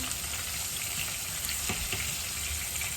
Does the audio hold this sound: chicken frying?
yes